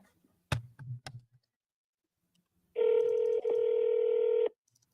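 A phone places a call: a couple of sharp clicks, a pause, then a sustained electronic dialing tone that breaks briefly and resumes. It is close and clear, with no talk over it.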